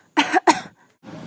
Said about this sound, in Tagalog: parang hindi gumagaling ang iyong ubo